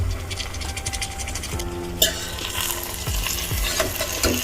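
About 500 grams of prawns stirred through hot masala gravy, where the oil has separated, giving a steady close sizzle and frying hiss with soft scraping stirs and one sharper clatter partway through.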